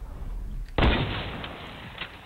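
A single sharp sniper rifle shot in the video game Fortnite, loud and close, with a sudden crack and a short, noisy decay over a low background.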